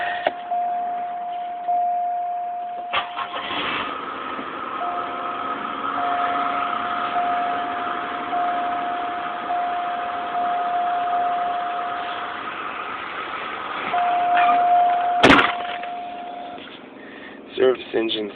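A 2000 Buick engine with a faulty crankshaft position sensor holds at high revs near 4,000 RPM with a steady, buzzing whine, then surges briefly near the end before settling.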